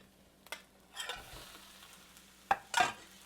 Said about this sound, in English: now we're going to add in a pound of ground beef